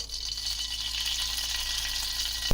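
Ghee heating in a pan just after raisins were fried in it gives a continuous, even sizzle up close, ending in a brief clink at the very end, with no voices.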